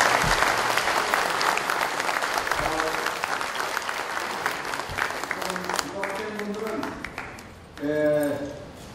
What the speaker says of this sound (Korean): 함께 여러분 큰 박수로 환영해 주시기 바랍니다